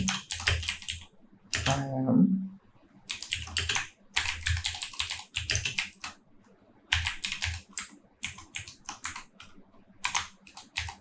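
Computer keyboard typing while a website hero section header is built, close and crisp bursts of rapid keystrokes separated by short pauses, with a brief murmur of a voice near the start.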